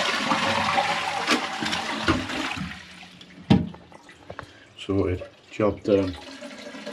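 A toilet flushes after a push-button repair, with a sharp rush of water followed by the cistern refilling in gurgling bursts. Someone speaks briefly over the water.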